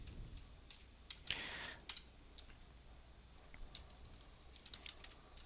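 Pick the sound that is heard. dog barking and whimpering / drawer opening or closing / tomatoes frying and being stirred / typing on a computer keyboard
typing on a computer keyboard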